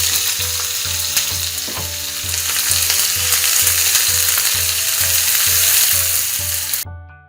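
Chopped onion and green chillies frying loudly in a pan, a dense close sizzle with a regular low thumping beneath it, cutting off abruptly at the end.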